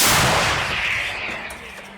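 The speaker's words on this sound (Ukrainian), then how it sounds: "Гармата! Постріл!" A single heavy artillery blast from a CAESAR self-propelled howitzer, booming loudly at once and then rolling away in a long, fading rumble.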